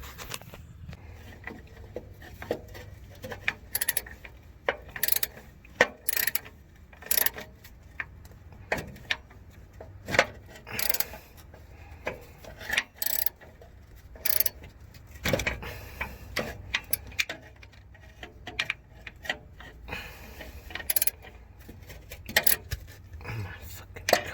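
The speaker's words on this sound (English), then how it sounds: "I'm about to put the wire inside of that wire and crimp it with the channel locks" Channel-lock pliers with a 90-degree bend crimp starter wire on a 1993 Ford F250 XLT with a 7.5L V8, heard as scattered sharp metallic clicks and ticks amid shuffling and handling noise over about twenty seconds.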